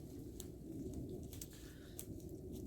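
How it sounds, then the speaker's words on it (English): Birds call faintly in the open air during a cold winter outing, a few scattered thin chirps and coos over heavy low wind rumble. "Loving the birds out here."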